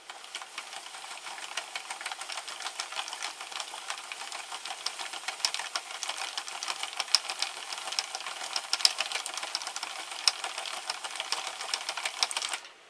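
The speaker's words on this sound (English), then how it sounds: "that little metallic sound that's going through the machine" Sentro knitting machine running with Yarn Bee Gilt Eyelash yarn, a steady fast clatter of small metallic ticks and taps that continues without pause, moderately quiet and close.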